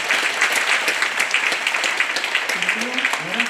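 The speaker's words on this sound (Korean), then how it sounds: "두 분께 뜨거운 박수 부탁드리겠습니다" An audience at a civic meeting on attracting a science high school to Gwangmyeong applauds two officials, steady dense clapping with a voice starting up near the end.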